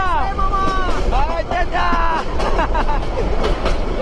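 A locomotive-hauled passenger train pulled by a 3000 series locomotive with brand-new Korean coaches rumbles along with steady rolling and clatter, heard from on board, while people chatter loudly over the noise.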